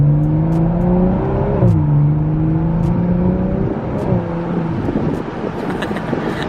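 A stock BMW M340i pulls hard under acceleration, its engine note rising in steady sweeps with a brief dip as it shifts, loud and close throughout with no talking over it.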